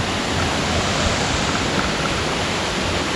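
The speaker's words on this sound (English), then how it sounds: "We've just arrived at Janet's Foss Waterfall. Look at that, it's absolutely raging today." Janet's Foss waterfall near Malham in the Yorkshire Dales, swollen after heavy rain, roars as a loud, dense, unbroken wash of rushing water, close and constant with no talking.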